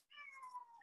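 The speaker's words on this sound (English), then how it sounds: "Sorry, can you hear my cat?" A house cat gives a single short meow that slides downward in pitch, faint and close, with silence around it.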